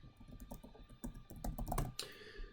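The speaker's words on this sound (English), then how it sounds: "To enter data, select a cell and start typing." Quick, irregular keystrokes on a computer keyboard entering data into an Excel cell, close and crisp, with a brief denser burst of clacks near the end and no talking.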